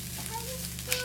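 Egg fried rice with pak choi sizzles softly in an oiled pan as it is stirred, with a few light scraping clicks toward the end.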